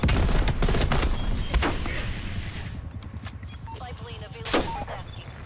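Heavy automatic fire from mounted machine guns on the Crossroads map in Call of Duty Black Ops Cold War, loud overlapping bursts and booms that gradually thin into scattered distant shots, with players talking over the gunfire.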